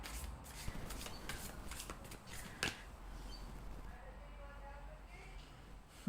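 Oracle cards are shuffled during a live reading, with soft, close riffling and sliding strokes in quick succession, one crisper snap, then quieter handling near the end.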